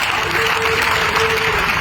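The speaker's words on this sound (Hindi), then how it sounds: "इसके लिए मैं कहूंगा एक बार तालियां बजा करें, अभिवंदन तो करें उनका" Applause from an audience gathered for a religious address by a mahant, a steady, dense wash of clapping that stays loud throughout without any speech.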